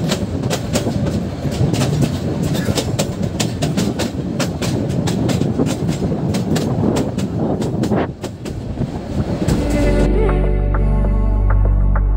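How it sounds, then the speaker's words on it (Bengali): A train carrying passengers toward the airport rolls along steadily and close, with continuous rumble and repeated clickety-clack from the wheels over rail joints throughout, ending in a sustained low hum. "আর আমাদের ট্রেনটি ডাইরেক্ট চলে যাচ্ছে বিমানবন্দরের উদ্দেশ্যে।"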